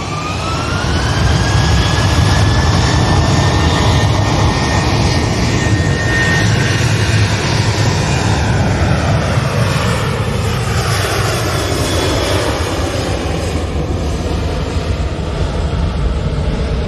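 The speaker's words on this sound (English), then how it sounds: "Ryanair is about to turn and burn." A Ryanair jet airliner takes off at Manchester Airport with a loud, close, sustained engine roar and a rising whine. The sound stays strong and even across the whole stretch.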